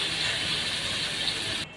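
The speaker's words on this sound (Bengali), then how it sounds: "গরম তেলের ভিতরে দিয়ে দিলাম মাছগুলো।" Prawns frying in hot oil, a steady loud sizzling hiss with fine crackle running unbroken, then cutting off abruptly at the end.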